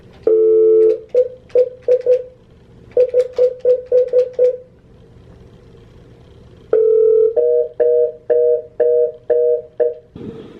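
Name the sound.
telephone busy signal when dialing into a conference call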